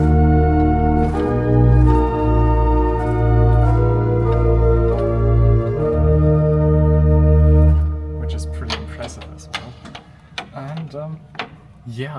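Sustained soft chords on a church pipe organ at Chiesa di San Bartolomeo with the undulating unda maris stop, gently wavering tones held for several seconds before trailing off into clicking mechanical key and stop noises.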